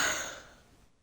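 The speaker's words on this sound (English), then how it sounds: "I keep yawning" A person yawns during a Minecraft session, a single drawn-out breathy exhale that starts fairly strong and fades away over about a second, close to the microphone with no talking.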